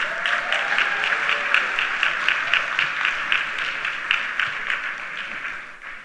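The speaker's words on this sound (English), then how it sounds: "Can we have a big round of applause for Pastor Hagee?" An audience at a Yom Ha'atzmaut event at Jerusalem's Museum of Tolerance gives Pastor Hagee a big round of applause, dense and sustained clapping from a crowd that fades slightly at the end.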